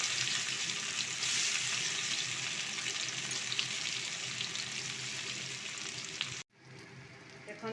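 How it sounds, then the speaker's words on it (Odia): Brinjal slices fry in hot oil in a kadai, a steady bright sizzle at close range that runs unbroken for several seconds before cutting off abruptly near the end. "ଏବେ ରଖିଥିବା ବାଇଗଣକୁ ମୁଁ ତା ଦେହରେ ପକାଇ ଦେଉଛି।"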